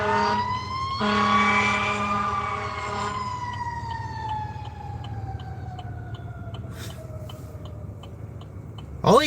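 An emergency vehicle siren wails loudly nearby, its tone sliding slowly downward as it passes, over a low engine rumble, with a sharp noise at the end.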